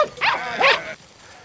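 Dog heard in a Hungarian film gives two close, loud barks in quick succession, then quiet.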